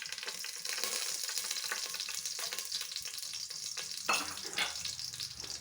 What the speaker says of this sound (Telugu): ఆవాలు, మినప్పప్పు, పచ్చెనపప్పు వేసుకుంటున్నాను.